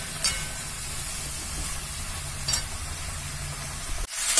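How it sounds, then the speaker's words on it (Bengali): Spiny gourd curry frying in a pan with garlic paste, turmeric and spices, a steady close sizzle and hiss with faint stirring scrapes, ending in a brief scrape, no talk. "কাঁকরোলের তরকারিটা এবার ভাজা হয়ে গেছে।"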